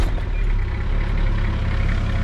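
A diesel 620 truck engine runs at a steady, loud low rumble close by, idling evenly with no voices over it.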